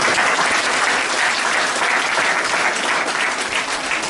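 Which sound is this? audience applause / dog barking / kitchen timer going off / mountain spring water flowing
audience applause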